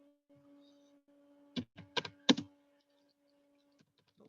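A few quick keystrokes on a computer keyboard come in a short burst of four or five soft, close clicks over a faint steady hum, then the room goes quiet.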